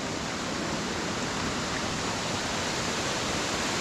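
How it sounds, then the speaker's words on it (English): The Stichill waterfall thunders powerfully as a dense, steady roar of rushing water that fills the whole stretch, close and loud, with no voices. "But the waterfall is absolutely spectacular."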